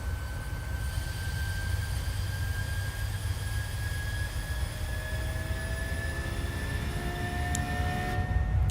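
Airliner jet engines at climb power in Microsoft Flight Simulator, a Southwest flight from Phoenix to San Francisco climbing toward flight level 240: a steady, continuous broadband roar with high whining tones, constant throughout with no talk.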